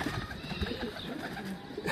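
Soft, low cooing from a caught runaway pigeon, close by and faint, repeating in short irregular bursts over a quiet outdoor background.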